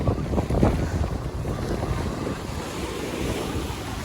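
A boat rides across the sea near Muscat, Oman, with a steady rush of waves and water under continuous buffeting wind noise.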